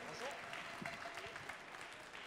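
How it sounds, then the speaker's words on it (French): An audience at a cooking event applauds a guest invited on stage, producing a quiet, somewhat distant wash of clapping that lasts the whole moment. "François, vous pouvez l'applaudir."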